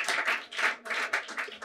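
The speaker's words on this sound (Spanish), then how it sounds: "¡Aplaude a la peña! ¡Aplaude!" A studio audience on a Spanish party-game talk show claps in short, lively bursts, close and fairly loud, with no talking over it.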